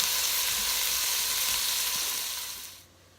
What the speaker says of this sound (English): I'm going to start frying up the bacon